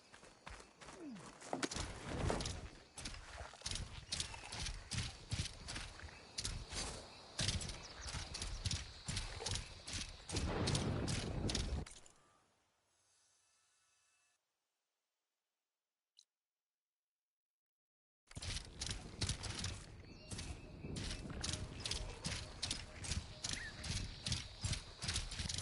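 Heavy rhythmic footfalls of a claw strider machine mount being ridden in Horizon Forbidden West, a fast steady clip-clop gait that cuts out for several seconds and then resumes at the same pace.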